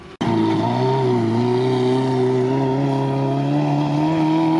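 A stuck UAZ Bukhanka van with an automatic gearbox, a 3.4-litre V6 and 33-inch tyres holds a steady loud engine drone as its wheels spin, the pitch wavering slightly and rising with no break.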